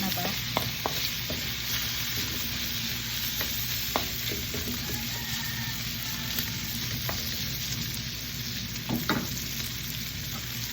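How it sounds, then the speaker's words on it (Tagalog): Sardines sautéing with tabayag (bottle gourd) in a pan, a continuous close sizzle and crackle of frying, with occasional clinks and scrapes of a utensil stirring against the pan. "Igigisa ko lang yan dito."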